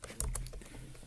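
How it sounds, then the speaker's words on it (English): A few quick keystrokes on a computer keyboard as a number is typed in, close and fairly loud, a short cluster of light plastic clicks with no talking. "The most difficult part is typing the number."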